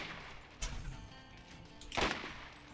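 Hyperion sniper rifle firing in the video game Borderlands: a single sharp, loud shot about two seconds in, with a smaller burst earlier, over a steady game background.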